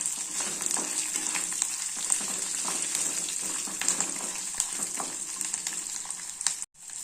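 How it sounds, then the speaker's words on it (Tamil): Urad dal, chana dal and chillies fry steadily in a pan, giving a dense, continuous sizzle with occasional stirring clicks, close and even, with a brief drop near the end. "இப்போ உளுந்தம்பருப்பு கடலைப்பருப்பு மிளகாய் வறுத்துக்குச்சு இப்போ நம்ம பூண்டு பல் போட்டுக்கலாம்"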